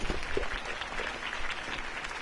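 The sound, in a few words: crowd applause at campaign speech, Batman Telltale video game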